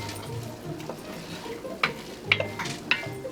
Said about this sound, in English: You can start to hear that sizzle too as it gets warmer.